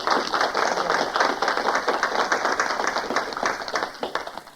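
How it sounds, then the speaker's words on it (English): Applause from a society meeting audience, a steady patter of many hands clapping at moderate volume that thins toward the end. "she's absolutely worthy of a round of applause for all of that"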